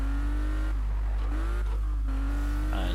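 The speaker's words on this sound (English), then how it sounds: "I would guess this is like a pretty mean Porsche 911 engine, or sound I should say" A Porsche 911 (993) engine in Need for Speed 2015 roars loud and close as it accelerates, its rising revs climbing and dropping through quick gear shifts.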